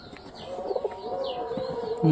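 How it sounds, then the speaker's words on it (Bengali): Pigeons coo softly while eating, a few low rounded calls rising over a quiet background with light rustle. "কত সুন্দর সব কবুতর খাচ্ছে দেখো"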